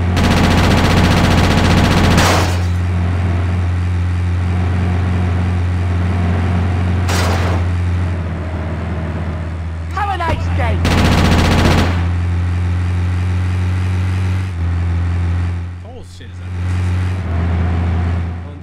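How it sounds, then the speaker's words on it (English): Bursts of machine-gun and automatic gunfire from a gang shootout in GTA Chinatown Wars, loud and close over a steady engine drone from game traffic, with rapid volleys spread through the clip and no speech. "They shooting right in front of the cops."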